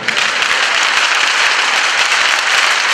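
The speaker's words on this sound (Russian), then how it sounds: "Аплодисменты." A crowd applauds, dense and loud, steady clapping from many hands without a break.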